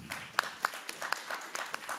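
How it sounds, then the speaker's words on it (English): Audience applause for panel discussion participants at a university anniversary conference, heard as scattered, fairly quiet clapping with a few sharper individual claps standing out over two seconds. "So please, applause to the panel discussion participants."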